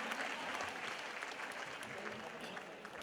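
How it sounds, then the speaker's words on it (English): An audience at a school quiz final applauds the runner-up school team, sustained crowd clapping filling the hall at a steady level, with some voices underneath. "They deserve a round of applause. Put your hands together for them"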